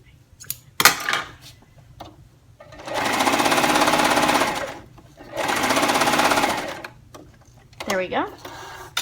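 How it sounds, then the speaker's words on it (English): A sewing machine runs in two steady bursts of rapid stitching through mesh fabric, each lasting a couple of seconds, with brief handling noises before and after. "If you have a sewing machine, you can go ahead and use a zigzag stitch or a double needle"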